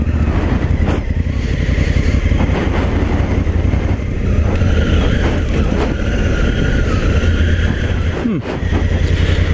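A Honda Africa Twin Adventure Sports motorcycle cruises at steady throttle with a throttle-lock cruise control, its engine droning loudly and continuously under heavy wind rush on an open road.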